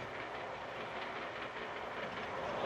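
A passenger train rolls steadily along the rails, a continuous rumbling, rattling wash of carriage noise heard from on board with a faint clickety-clack rhythm.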